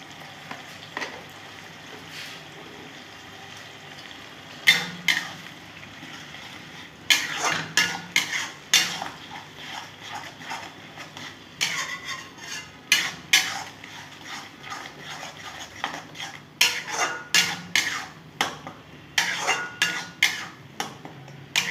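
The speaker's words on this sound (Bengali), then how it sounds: "ভালো করে কষিয়ে নেব।" Pointed gourd paste with turmeric and salt is stirred in a pan, heard as repeated scraping and clinks of a spatula against metal with a faint sizzle, in uneven bursts, with no talking.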